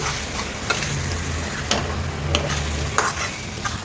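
A spoon stirring fenugreek leaves and onion curry in a hot pan, with a steady close sizzle under repeated soft scraping strokes of the spoon against the pan, no voices.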